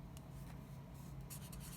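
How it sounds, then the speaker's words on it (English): Pen or chalk scratches steadily across a surface, writing out the law of series and parallel circuits in a quiet room. "So now I will write down just the law"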